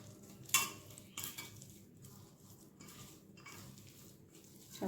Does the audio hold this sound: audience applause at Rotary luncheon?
no